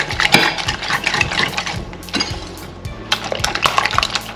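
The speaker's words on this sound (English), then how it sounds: "Give it a good whisk." Eight eggs with green herbs are whisked briskly in a bowl, giving a loud, fast run of rhythmic clicking and tapping strokes that continues throughout.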